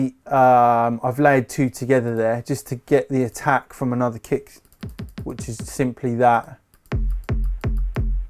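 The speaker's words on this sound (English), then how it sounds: "So basically I've layered two together there just to get the attack from another kick" Someone talks, then after a short pause four deep, punchy kick drum hits, layered from two kick samples, thump at an even pace.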